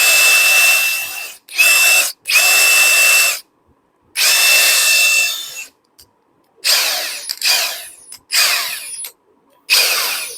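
An INGCO 42V brushless cordless impact wrench runs in repeated close bursts, its high motor whine starting and stopping about eight times with short silent gaps between pulls of the trigger.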